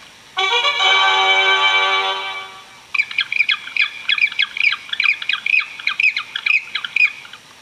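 A penguin gives a loud, harsh, honking call that holds for a couple of seconds, then breaks into a rapid series of short squawking bursts.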